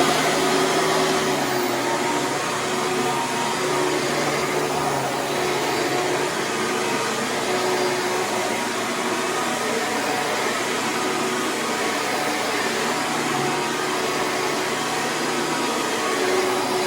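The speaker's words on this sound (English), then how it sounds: "let's get to the vacuuming." A Hoover Preferred upright vacuum cleaner runs over a master bedroom rug, sucking up sand with a steady, loud motor whine and airflow roar that holds constant throughout, with no talking.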